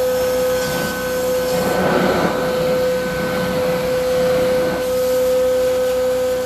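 A carpet cleaning extraction machine running over 200 degrees drones steadily with a constant high whine and airy suction roar, rising slightly in a few surges as it pulls dust from carpet.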